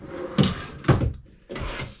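Drawers slide open and shut inside a 2017 Open Range 3X427BHS RV, three quick wooden knocks spaced about half a second apart, close and clear with nothing else heard.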